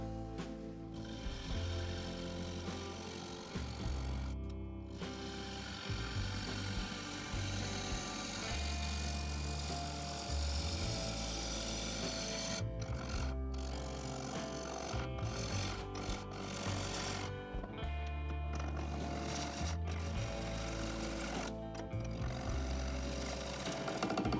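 A birch burl bowl full of wormholes spins on a wood lathe at about 800 RPM, and the gouge gives a loud, continuous rough scraping with uneven surges and brief dips, heard close.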